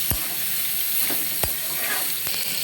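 Pieces of hilsa fish fry in a pan with a steady, close hissing sizzle, broken by a few soft clicks.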